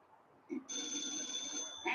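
An old telephone bell rings with one steady, bright metallic trill that follows a brief click, and it is fairly close and heard alone.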